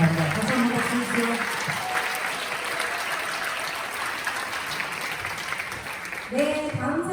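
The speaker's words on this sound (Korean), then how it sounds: "박수 한번 주세요." Audience applause at a live church radio broadcast, dense steady clapping from a crowd that continues for several seconds, with a voice speaking briefly near the end.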